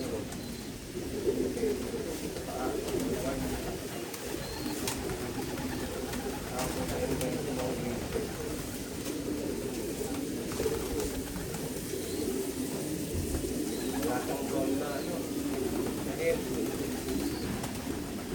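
Many breeder hen pigeons coo together in a loft of champion birds, a steady dense murmur of overlapping low coos throughout, with someone talking intermittently over them.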